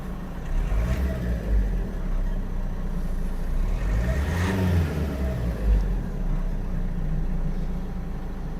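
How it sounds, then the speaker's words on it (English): Renault Duster 1.5 dCi diesel engine, said to have an ECU software fault causing an injection fault, revs up from a steady idle to higher RPM, a loud, close, continuous low rumble with a rising surge midway. "Now let's increase the RPM slightly."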